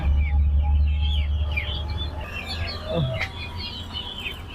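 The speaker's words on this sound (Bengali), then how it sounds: "ভাই এখানে কি কি মুরগি আছে" Sonali chickens cluck steadily at close range in a poultry yard, with chirps and soft calls layered over a low background hum; brief talk is faint.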